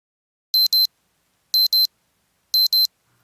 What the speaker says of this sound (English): After a decent night of sleep, the alarm went off at 4 o'clock